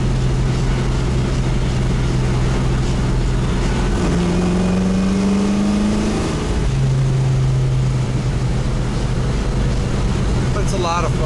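A car engine with a six-speed transmission and about 425 horsepower revs and winds out through a gear while accelerating on a Sunday morning cruise in Burtonsville, loud and steady, with wind and road roar throughout and a clear rising pitch sweep midway.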